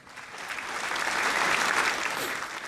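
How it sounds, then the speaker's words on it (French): One person clapping their hands, a dense run of claps that swells and then fades over a few seconds. "je vous applaudis les gars, parce que bravo, vous êtes très forts"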